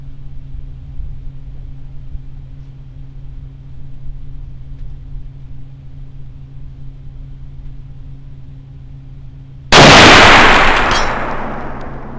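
A single sharp crack from a smokeless muzzleloader rifle firing a 275-grain bullet at a 300-yard target, bursting loudly out of a quiet outdoor hum and ringing off over a second or two.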